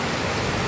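Heavy rain pouring steadily in a storm, a dense, loud, unbroken hiss of falling water.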